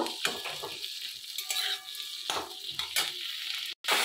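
Grapes frying in hot oil in a kadai, a steady broadband sizzle with bursts of stirring and scraping, close and fairly loud, with a brief dropout near the end.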